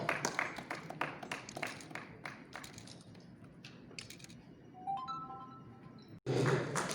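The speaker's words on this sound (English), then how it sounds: "A huge round of applause for" Applause for a trophy unveiling at a premier league football event in Chapora, Goa: a run of sharp, irregular claps at moderate distance over room murmur, thinning out midway before a louder burst of crowd noise near the end.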